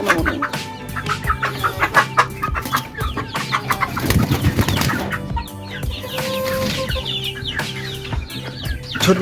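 Native hens and roosters on a small poultry farm cluck loudly and continuously, with overlapping calls and a brief flurry of flapping wings, close by.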